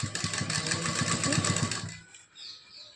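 A sewing machine stitches the diamond neck of a lined blouse with a rapid, even needle chatter that runs steadily for two seconds, then stops abruptly and leaves near quiet.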